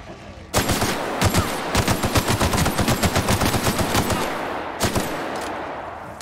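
Rapid bursts of automatic gunfire in the video game The Outer Worlds, loud and close, with rattling volleys, brief pauses and a few final shots.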